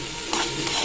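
Vegetables frying in a pan on a gas stove, a steady broadband sizzle close by with a couple of brief stirring scrapes, no voices.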